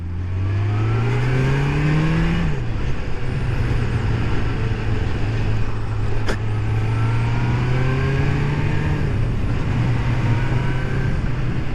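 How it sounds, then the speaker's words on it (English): A Kawasaki GPZ600R motorcycle, recently rebuilt and on a test ride, accelerates steadily in second gear, its engine note rising smoothly and loudly, briefly dipping around a shift point, then climbing again under continuous wind rush. "she's accelerating clean, so I think that the carbs are running correctly. So I'm in second gear."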